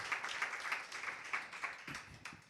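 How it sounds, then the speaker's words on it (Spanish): Audience applause welcoming guests at a church talk, a faint, uneven patter of clapping from a modest crowd that rises and dips across a couple of seconds. "Ese aplauso es de bienvenida para ustedes."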